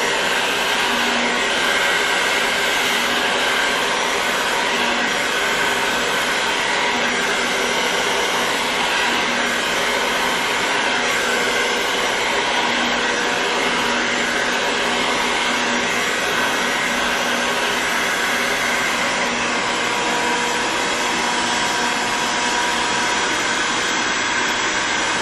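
A hair dryer blows steadily on long hair, a loud, constant close-up roar of rushing air that holds unbroken the whole time with no talking.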